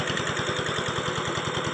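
A water pump engine runs on a farm, a steady, quick low thudding pulse of moderate volume that continues evenly without voices.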